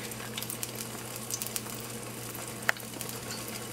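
A VeganEgg omelette cooks quietly in a pan with a soft, continuous sizzle and low hiss, broken by scattered faint crackles and one brief clink.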